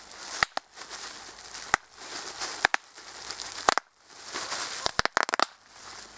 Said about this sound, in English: Hey, that's a firecracker